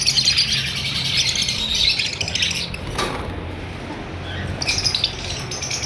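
Albino personata lovebirds with red eyes, a breeder pair, squawk and chirp nearby in bright, dense calls that run steadily through the clip, with a short dip near the middle before they pick up again.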